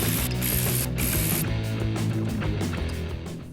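A ratchet clicks rapidly and close up while loosening bolts on the 2.5L 2AR-FE engine of a Toyota Camry during valve cover work, the pawl ticking in quick bursts that fade toward the end.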